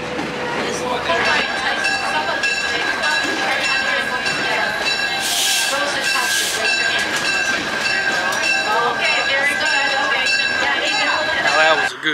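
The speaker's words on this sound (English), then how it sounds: "Riding the train around the whole property." A heritage railway train at Greenfield Village rolls along with rumbling wheels and a sustained whistle tone, people chattering over it throughout, with a brief hiss of steam midway.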